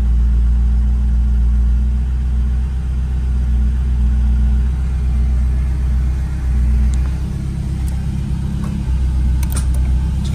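A 1983 European-market Ferrari Mondial Quattrovalvole starting from cold after sitting in a warehouse, its engine settling into a loud, deep, steady idle rumble with a few faint mechanical ticks near the end.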